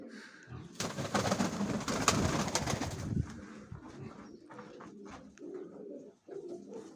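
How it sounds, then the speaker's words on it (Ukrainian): Mykolaiv pigeons cooing nearby, a few low throaty coos over a burst of loud rustling and wing flutter, then quieter scattered coos and shuffling for the rest. "Ці голубеня вже є. Двоє голубенят."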